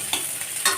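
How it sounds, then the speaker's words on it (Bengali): Onions fry in a pan while being stirred, giving a steady close sizzle with soft scraping strokes and no voices. "এই সবে মাত্র এবার চিকেনটা বসিয়েছি, মানে পেঁয়াজটা ভাজা করছি"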